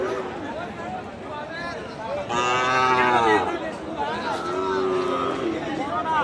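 Cattle, including Sahiwal-breed calves and local bulls, low and moo amid a busy crowd of chattering voices, the calls rising loud over the steady murmur of a Bangladeshi livestock market before Qurbani.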